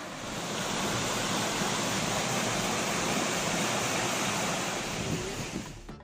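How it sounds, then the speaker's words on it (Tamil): Water pours over the Vathalmalai waterfalls, swollen by continuous heavy rain. It makes a steady, loud, broadband roar that does not change, with no voices. "வத்தல்மலை பகுதி அருவிகளில் நீர்வரத்து அதிகரித்துள்ளது"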